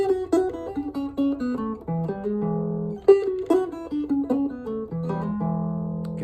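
An electric blues guitar in first position in E, using open strings, plays a melodic phrase of single picked notes and bends over about six seconds, clear and upfront with no talk.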